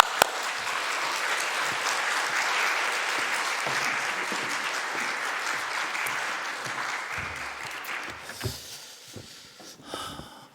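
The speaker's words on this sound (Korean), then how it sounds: "우리 환영의 박수 크게 하시겠습니다." Welcoming applause for a pastor at a church teachers' revival meeting in South Jeonnam presbytery, sustained crowd clapping that gradually fades toward the end, with a few isolated sounds after it dies down.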